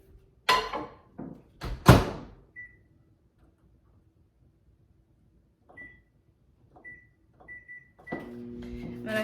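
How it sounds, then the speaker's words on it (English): A kitchen microwave oven melting half a stick of butter: door thunks and clatter at the start, then quiet running broken by short beeps, ending with a louder burst of rattling and a door. "I'm gonna put it in the microwave and melt it."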